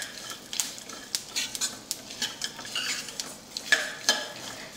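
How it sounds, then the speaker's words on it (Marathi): A spoon scrapes and stirs spices being dry-roasted in a little oil in a pan over low heat, making steady close scraping and clinking strokes with a faint sizzle underneath and no voices. "मंद गॅसवर हे सगळं आता 1-2 मिनिट भाजून घ्यायचं आहे."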